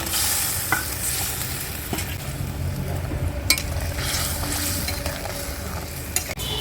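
Raw banana koftas go into a simmering village-style curry, which gives a dense, even bubbling and sizzling hiss. A few sharp clicks and knocks sound close by, and no one speaks.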